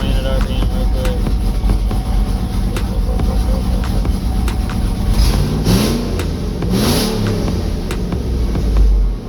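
A turbocharged Gen4 5.3 engine revs close by, with a loud steady run and two short rising rev bursts near the end.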